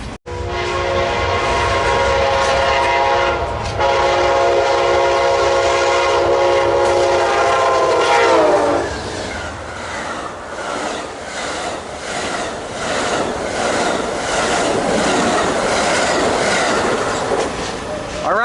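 A long port stacker freight train rolls past at close range, a loud sustained rumble of wheels and cars with a tonal horn-like whine in the first half, then steady clattering of wagons continuing.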